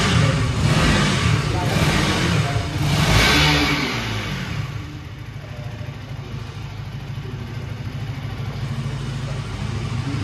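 A new KTM Duke 200 motorcycle engine revs loudly in a couple of bursts near by, then settles to a steady idle, with people talking over it.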